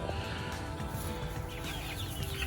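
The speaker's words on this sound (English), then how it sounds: "See how long it takes the chickens to figure out that they can use automatic feeder." Chickens in a custom coop gathered at an automatic bucket feeder, soft clucking and murmuring close by over a steady background hum.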